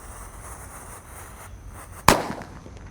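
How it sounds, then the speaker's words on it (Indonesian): Disco Happy Flower firework going off outdoors: one sharp, loud burst cracks out after a quiet lull and leaves a short fizzing tail, with faint background hiss before it. "Lanjut kita nyalakan Disco Happy Flower Lap Laptor."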